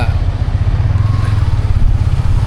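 A motorbike being ridden on a road in Malaysia, a loud close engine drone with a low pulsing rumble and wind noise that stays steady throughout.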